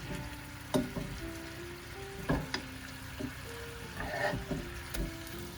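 Salmon sizzling and frying in a pan after being flipped: a steady, fairly quiet hiss and crackle, broken by a few soft knocks and scrapes from handling in the pan.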